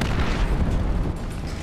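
An artillery shell explodes in War Thunder tank combat, giving a short, heavy, rumbling boom that stays dense and low throughout.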